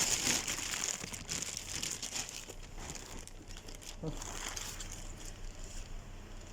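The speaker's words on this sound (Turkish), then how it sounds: "Poşetimizi alalım." A plastic shopping bag is handled and crinkled close by in a brief run of rustling and crackling, with people talking around it.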